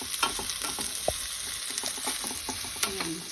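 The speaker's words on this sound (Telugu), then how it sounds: "వేగి ఇలా కలుపుకుంటూ ఉండాలి." Radish pieces for chutney frying in a pan while being stirred, with a steady broad sizzle and irregular scraping clinks of the spoon against the pan, close and fairly quiet, no talking.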